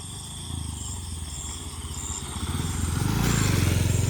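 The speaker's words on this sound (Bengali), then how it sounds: "এই যে মোটরসাইকেল যাচ্ছে এই রাস্তা দিয়ে" A motorcycle travels along a hilly mountain road at night. Its engine purrs steadily and grows louder toward the end as it comes closer, with no talking over it.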